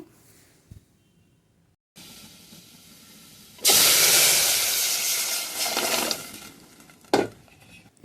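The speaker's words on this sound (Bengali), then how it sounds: "ডালটা এখন বাগার দিয়ে দিব" Dal being tempered in hot oil, the clip opening quietly before a loud burst of sizzling and hissing that holds for several seconds, then fades, with a brief clatter of the pan near the end.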